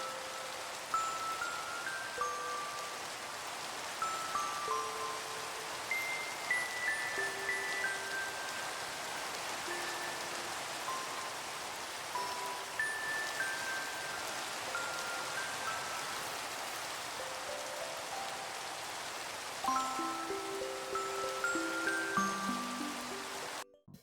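Soft, steady Minecraft rain downpour hisses quietly throughout, with gentle scattered musical notes chiming over it.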